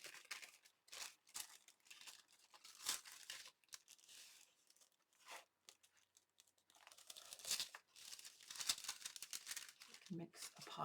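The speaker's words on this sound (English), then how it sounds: "So I have this glassine bag, but fold that in half maybe." A glassine bag is folded and handled at close range, giving intermittent crisp crinkles and rustles in bursts, with talk heard in between.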